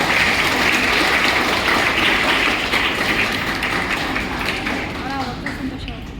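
Steady applause from a crowd, a dense wash of clapping that fades slightly toward the end, with a voice talking over it.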